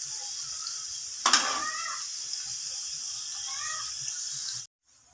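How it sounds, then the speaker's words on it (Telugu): Vegetables fry lightly in a pan for egg fried rice, a steady soft sizzling hiss that runs almost unbroken, with one brief louder burst near the start and a sudden cut to silence at the end. "ఇవన్నీ వేసేసి ఫ్రై చేసుకోవాలి మనం లైట్గా."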